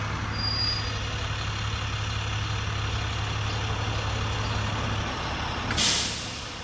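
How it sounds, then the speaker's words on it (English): A parked school bus rumbles at idle with a steady low engine drone, and a sharp hiss of its air brakes bursts out near the end, with no voices. "let me capture that school bus"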